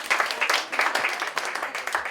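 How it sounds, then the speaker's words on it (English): A crowd applauds at an outdoor Iowa Democratic gubernatorial candidates' event, a brief burst of steady, moderately distant clapping with a few sharper individual claps standing out. "Big round of applause."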